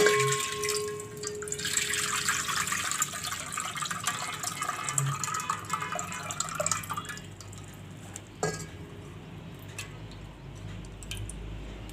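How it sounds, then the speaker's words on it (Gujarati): Water sloshes and trickles as desi chickpeas are rinsed in a bowl, with splashes and clinks, the flow thinning toward the end. "તો હજી થોડુંક પાણી નાખીને આપણે ધોઈ લેવું."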